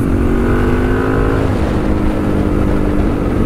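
Suzuki DRZ400E motorcycle engine running steadily and loud, with a shift in engine note partway through as it changes gear, up close throughout.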